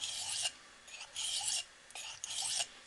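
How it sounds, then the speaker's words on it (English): Light knife strokes on a sharpening stone with eased pressure to weaken the burr, several close, crisp rasping scrapes in a steady alternating rhythm with brief pauses between them. "ease up quite a bit on my pressure and just take a few strokes on each side"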